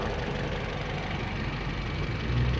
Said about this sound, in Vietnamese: Máy nổ rất là êm mọi người ạ.